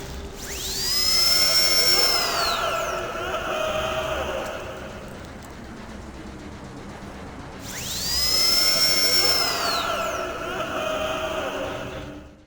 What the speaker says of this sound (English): the terrifying sound of a dentist drill, along with the screams of the presumed patient, can be heard